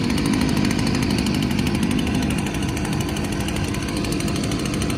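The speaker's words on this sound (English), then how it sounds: "that is a steel BG56 blower," A Stihl BG56 blower idles while blowing air into a 55-gallon steel fire barrel, producing a loud, steady engine drone with a dense roaring rush that stays constant throughout.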